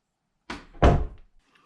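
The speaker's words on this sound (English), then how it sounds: "And then you just want to shut the door." An interior door swings shut with a soft initial bump followed by a louder, solid thud as it closes into the frame, then quiet.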